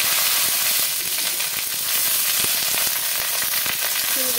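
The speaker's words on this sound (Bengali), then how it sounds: "শিমগুলোকে একটু ভালো করে ভাজা ভাজা করে নেব।" Flat beans sizzle and fry in hot mustard oil with panch phoron in a wok, a loud continuous crackling hiss with occasional stirring clicks, no voices.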